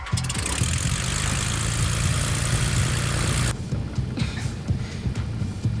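A fighter plane's engine roars loudly and steadily while it gets ready for takeoff. The sound then cuts off abruptly to a quieter, rumbling background with scattered knocks.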